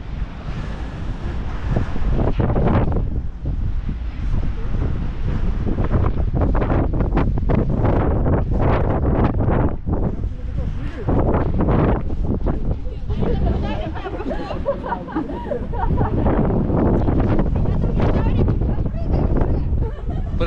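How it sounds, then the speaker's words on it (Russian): Strong gusting wind buffets the microphone throughout, a loud continuous roar with surges, while people talk over it. "Ветер дергает."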